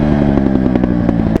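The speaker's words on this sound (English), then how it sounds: "Oh my god, she backfiring, dog." Honda 150R supermoto motorcycle engine idling close up with a rapid rattling pulse, ending in one sharp backfire pop near the end.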